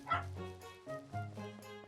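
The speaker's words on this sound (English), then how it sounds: "Oh, you guys hear Small Dog?" Small dog barking in The Legend of Zelda: The Wind Waker, a few short yappy bow-wow barks in quick bursts, close and clear with no talking over them.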